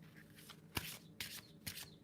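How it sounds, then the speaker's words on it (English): A deck of tarot cards shuffled by hand, several crisp riffling bursts with quieter rustling in between, close and fairly soft with no voices. "One more shuffle."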